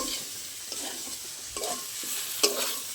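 Spice paste and vegetables for a fish curry sauté in a pan, a spoon stirring and scraping through a soft, continuous sizzle. A few brief louder scrapes stand out in this short, close stretch, with no talking.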